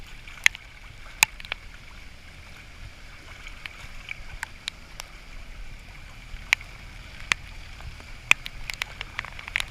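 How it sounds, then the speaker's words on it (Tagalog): Continuous rushing floodwater and strong wind on a flooded Manila street, a steady broadband roar punctuated by scattered sharp ticks and splashes, all fairly loud and without voices. "malakas ang hangin dito at saka napakabilis na ang tubig ng agos"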